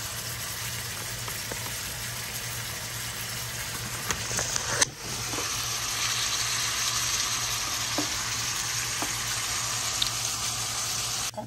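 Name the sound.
mushrooms sizzling as they cook down in a pan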